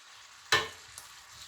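Yucca blossoms cooking in a pan on a stove on its lowest heat give a sudden loud sizzle burst that fades quickly, followed by a faint tick and quiet bubbling, close and alone.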